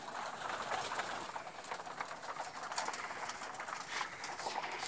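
Racing pigeons in a loft give low, continuous cooing and murmuring under a steady background hiss, with occasional faint rustles and no one speaking.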